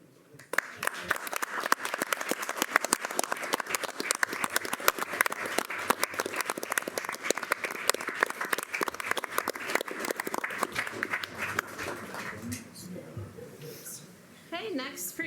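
Sustained applause fills a city council meeting in Moline, with steady dense clapping for about twelve seconds before thinning out, and voices murmur underneath.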